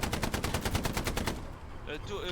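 Rapid, evenly spaced gunshots ring out during a shooting match, loud and close in a fast string for over a second before stopping, after which a voice briefly speaks.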